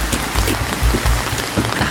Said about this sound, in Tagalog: Bakit biglang lumakas yung ulan ang init-init kanina?